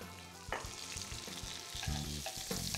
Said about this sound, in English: Now we're going to put our capers in the butter.